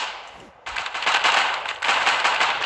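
Loud, rapid bursts of automatic gunfire in the Fortnite video game, starting abruptly after a short lull and rattling on continuously at close range.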